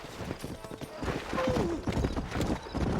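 Horse hooves clip-clop at a gallop in the Red Dead Redemption video game, with a whinny partway through, close and steady beneath game voices talking.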